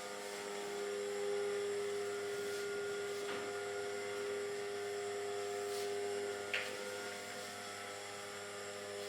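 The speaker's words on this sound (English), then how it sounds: "This is the turbo pump for making the vacuum" A turbo pump pulls a vacuum in a laboratory sample chamber, giving off a faint, steady mechanical hum with sustained tonal whine lines and small clicks and rustles in the room.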